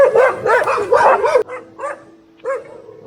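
Dog barking outdoors on a trail near a hidden waterfall in Kormala, a burst of several loud close barks followed by a few softer, more spaced barks and whimpers.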